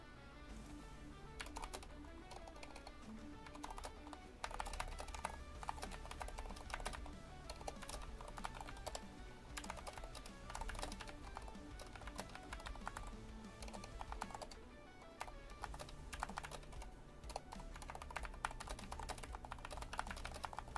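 Computer keyboard typing during a War Thunder air simulator session flown with mouse and keyboard, a quiet, continuous patter of key clicks over a low background hum, close and steady throughout.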